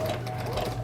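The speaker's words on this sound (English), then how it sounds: "I'm going to reinforce my stitches here just a little bit" A sewing machine runs briefly, a short steady mechanical whir as it backstitches to reinforce the stitching at a quilt binding corner.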